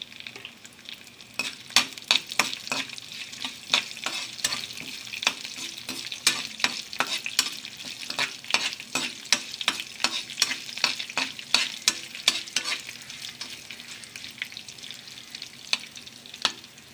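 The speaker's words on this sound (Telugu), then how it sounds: "ఇందులో మనం ఆవాలు అలాగే జీలకర్ర అలాగే ఎండి మిరపకాయలు అలాగే పచ్చి మిరపకాయలు కూడా మనం వేసుకొని వాటిని కూడా మనం వేయించుకుందాం" Mustard seeds, cumin, dried red chillies and green chillies frying in hot oil for a potato upma curry, with rapid irregular pops and crackles over a low sizzle, up close and without talk.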